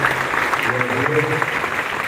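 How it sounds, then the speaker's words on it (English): An audience at a national science camp at IIT Kanpur claps for the participants, a broad even patter of applause running under a speaking voice throughout. "So a big round of applause and congratulations to all of"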